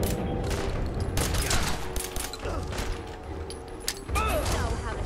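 Shotgun fire in the video game Fallout 4, heard as several loud, sharp blasts in a rapid, uneven burst over a dense game soundscape.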